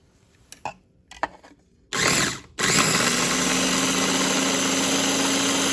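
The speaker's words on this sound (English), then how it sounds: "I'm going to mix them in the food processor." Food processor whirring as it blends smooth peanut butter with maltodextrin, a loud steady motor drone after a few handling clicks and a short first burst.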